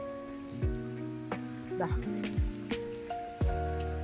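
Heavy, unbroken rain falls during a flood in Kerala, where water has risen knee-deep on a road. A steady wash of rain runs under a person talking and strong tonal sounds throughout.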